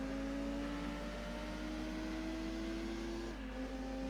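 A Nissan Skyline engine in a racing video game holds a steady mid-pitched drone with faint whine, then the pitch drops near the end as it shifts or lifts off, with no talking.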